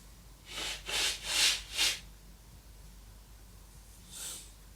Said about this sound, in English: I need to blow my nose a little bit